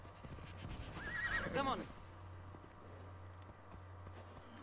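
Horse in the video game Assassin's Creed Odyssey lets out a single loud whinny, with hoof clip-clops and a low steady hum behind; someone speaks briefly.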